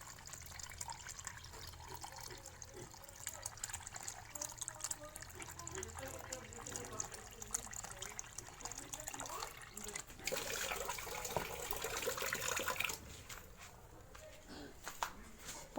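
Water pours and splashes faintly for a while, swelling louder near the end, while people talk quietly in the background.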